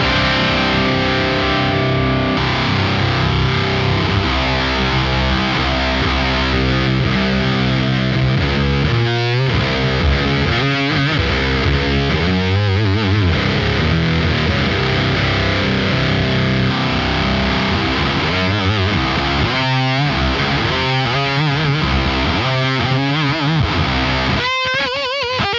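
Heavily distorted electric guitar through a KMA Machines WURM2 distortion pedal in HM2 mode, playing sustained chords and chugging riffs, thick and saturated, continuous throughout with no talking.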